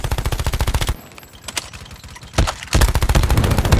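Call of Duty sentry gun fire rattles out in rapid, loud bursts of evenly spaced shots. A short pause with scattered single reports breaks the first burst from the second.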